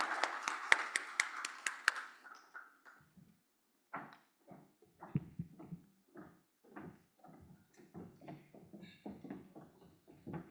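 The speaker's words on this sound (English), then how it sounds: "If you could please give her a warm applause," Audience at a UN Africa regional sustainable development forum clapping briefly to welcome a minister to the podium, a short burst of sharp claps that quickly gives way to scattered taps and handling noises.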